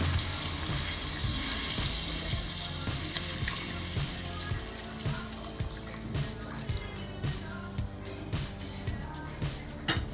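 Water runs steadily into a cooking pot holding browned chicken and onions for Senegalese thiebou guinar, a continuous close splashing pour lasting the whole stretch without speech.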